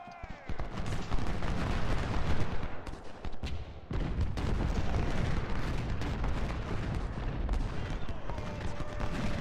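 Dense battlefield din from the Civil War game Ultimate General: Civil War: continuous rolling musket gunfire and booming artillery blend into a loud, sustained roar with scattered sharper cracks, including near an artillery battery.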